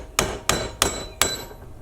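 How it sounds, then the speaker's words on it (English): Four sharp, evenly spaced hammer taps ring out up close on a rusted brake slide pin from the rear brakes of a 2005 Jaguar S-Type, held in a vise. Each tap decays briefly, and no one speaks. "Tap a bit more, different angles."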